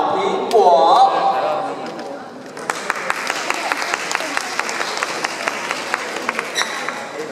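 An audience at an International Family Day press conference claps warmly after a brief announcer's voice, with steady, moderately loud applause and distinct sharp hand hits continuing to the end.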